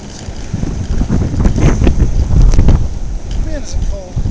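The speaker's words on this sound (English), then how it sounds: "we're in the middle of a blizzard." Blizzard wind in Maine buffets the microphone with loud, gusting rumbles and surges, a few faint whistling tones rising near the end.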